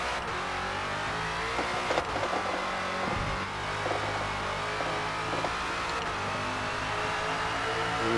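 Ford Falcon FG X race car in Forza Motorsport at Yas Marina, its engine droning and revving steadily while traction control cuts in and the tires scrabble, loud and continuous throughout.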